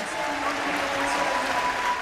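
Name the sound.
crowd applauding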